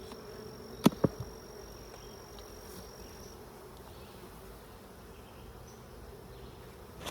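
A honeybee colony hums steadily and close by while the hive is lifted off its box. Two sharp knocks of equipment come early, and the buzzing then holds at a low, even level.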